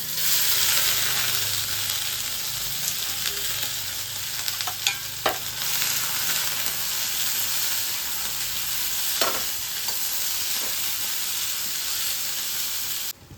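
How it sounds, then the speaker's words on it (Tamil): Ivy gourd sautéing in sesame oil in a wok gives a steady, close hissing sizzle throughout, with a few faint scrapes of stirring. "இந்த வடச்சட்டியில் கோவக்காய் வதங்கிட்டுருக்குங்க"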